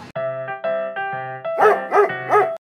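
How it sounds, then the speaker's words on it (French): A small bulldog lets out a rapid string of about seven high, yappy barks, close by and loud, the last few sharper and more forceful. "C'est un bulldog. C'est un petit bulldog."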